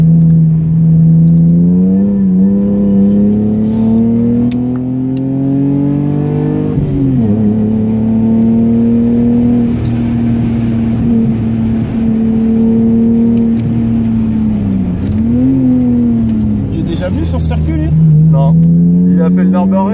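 A Lexus IS200 race car lapping the Clastres circuit, its engine holding a loud, steady drone that rises and dips with throttle and gear changes, heard from onboard under intermittent talk.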